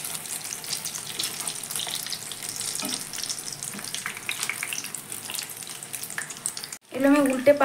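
Snacks frying in oil in a pan, turned until reddish-brown, give a steady close sizzle with occasional stirring clinks, ending in a brief louder burst.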